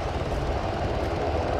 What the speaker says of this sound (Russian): Он садится вертолет.